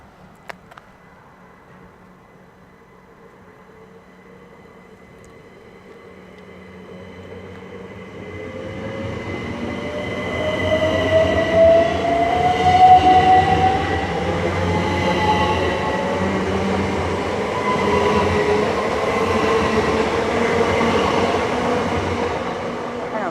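A Great Western Railway class 387 electric passenger train rumbles into motion at Twyford station and builds to a steady roar, with a rising whine and wheel squeal as it passes close by.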